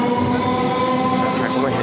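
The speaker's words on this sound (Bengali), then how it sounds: "এই দেখো ট্রেন যাচ্ছে" A train passes near a hotel, a steady rumbling rush with continuous tonal hum, loud and unbroken throughout, with faint voices underneath.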